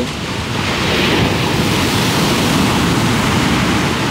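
Loud, continuous roar of big ocean surf breaking on a wide California beach, with wind buffeting the microphone throughout.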